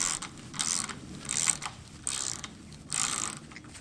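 Thread tap being turned by hand with a tap handle, giving a run of close ratcheting, scraping clicks in four bursts separated by short pauses, near and moderately loud with no voices.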